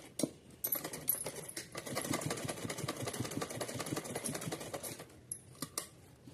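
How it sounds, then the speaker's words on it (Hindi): A sewing machine stitches a small doll's dress bodice with a fast, even needle patter. It runs for several seconds between quieter start and stop clicks, faint and close. "जहां जितने में हमारी चोली आ रही है उतने में हम सिलाई डबल लगा लेते हैं।"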